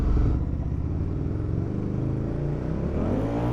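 A BMW F900 GS adventure motorcycle rides off-road with a steady engine drone and a slowly shifting pitch, heard close with wind rumble and no voices.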